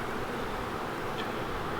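Honeybees from a strong, active colony that lived wild in an oak tree for 20 years hum at an opened hive during a hive split, a dense, steady buzz that stays constant and close with no talking.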